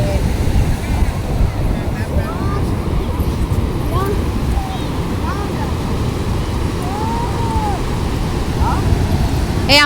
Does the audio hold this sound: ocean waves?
yes